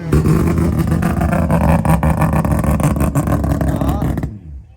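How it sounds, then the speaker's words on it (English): A race car engine runs loud and close in a pit area, with a dense, continuous growling roar that holds steady for several seconds before cutting off abruptly. "Race car."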